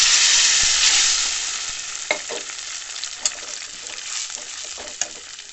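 Ground spice paste sizzles in hot oil with fried onions for a bangda fish sambar, loud and steady with a few sharp stirring clicks and scrapes, and no voices.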